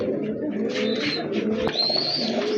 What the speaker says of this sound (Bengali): দেখেন এক জোড়া গোল্লা কবুতর, এটা কিন্তু অরিজিনালি আপনার দেশি কবুতর